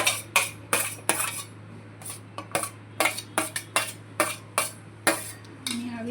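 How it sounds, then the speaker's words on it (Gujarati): A spoon stirring semolina batter mixed with onion, capsicum and chillies in a steel bowl, with repeated sharp clinks and scrapes in an uneven rhythm, close up and with no talking. "આવી રીતે મિક્સ કરી લેશું."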